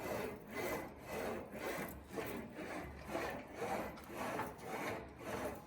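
An English wheel rolls a sheet metal panel straight back and forth, giving a steady rhythmic rasping swish that rises and falls about seven times, close and fairly quiet with no talking.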